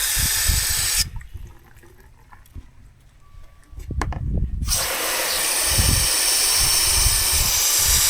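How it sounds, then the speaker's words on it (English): Water splashes and hisses from a hose or can onto strawberry plants in a spring garden, a steady close pour that breaks off briefly and then resumes, with no talk. "And these are the strawberries. Let me give them some water."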